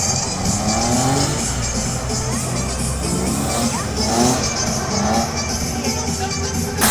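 A drift car makes a qualifying run at the Pezinská Baba drift championship, its engine roaring continuously as the tires squeal and scrub through the turns. A crowd murmurs and a commentator talks underneath.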